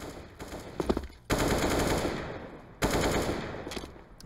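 Bursts of automatic gunfire from Counter-Strike on the Mirage map, shots fired into a smoke cloud during a G2 Esports vs. North match, coming in loud sustained volleys with brief pauses between them.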